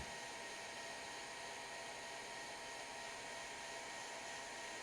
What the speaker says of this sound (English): If you're quick painting, have a hairdryer on you so you can keep going.